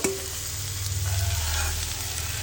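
A rice and saffron mixture for phirni being stirred in a pot, a steady low bubbling and soft scraping under a continuous hum, close and even.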